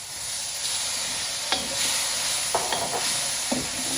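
Vegetables stir-fry in a pan with soy sauce and fish sauce, along with garlic, chili and ginger, sizzling steadily up close, punctuated by several sharp scrapes and taps of a utensil stirring against the pan.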